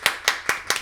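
Four sharp hand claps in an even, quick rhythm, close and crisp, with short silences between them.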